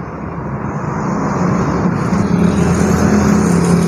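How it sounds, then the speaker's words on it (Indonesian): A loud, close engine hum builds steadily as a Sinar Jaya bus pulls away from a terminal, its rumble growing over a few seconds. "Sinar Jaya Single Glass satu VX start awal dari Terminal Duku Salam Selawi"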